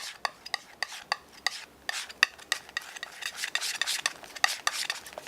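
Acrylic paint being stirred and mixed with a brush or knife on a palette, blending orange into bright green; soft repeated scraping and dabbing strokes in an irregular rhythm, close and fairly quiet, with no talking.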